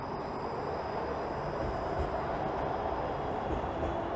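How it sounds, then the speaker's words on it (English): A Toronto 511 Bathurst streetcar rolls past on a city street by Lakeshore Boulevard and Queens Quay West, a steady low rumble of rail wheels and motor heard fairly close throughout, with no talk. "And there goes a 511 Bathurst streetcar."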